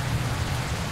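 Rain falls steadily in a video game, a dense even hiss of drops on surfaces that continues throughout, moderately loud and without speech.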